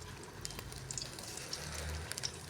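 Mukhshola pitha fry in hot oil, a soft steady sizzle with faint crackling pops, quiet and close with no talking.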